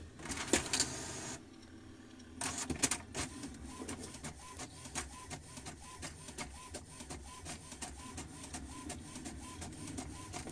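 An HP ink tank printer feeds and prints a page, with a short burst of clicks, a quiet pause, then a long run of rapid rhythmic mechanical ticking and whirring close by.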